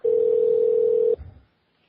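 A telephone line in a radio call-in studio gives one steady, loud electronic tone lasting about a second before cutting off into a short low rumble and then silence.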